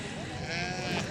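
Small lambs bleat at the Sokuluk livestock market, a quick wavering cry close by amid the general crowd noise and talk.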